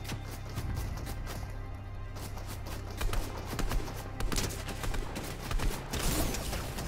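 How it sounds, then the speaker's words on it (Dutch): Scattered bursts of Fortnite gunfire crackle at a distance, irregular and fairly faint, with occasional footstep-like taps mixed in. "Wacht, ik hoor schoten."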